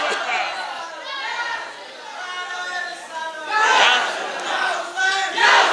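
A crowd at an Islamic religious gathering shouts back in unison to a Nara-e-Takbir call. Loud, surging voiced chanting rises in several bursts over a preacher's amplified speech and crowd chatter.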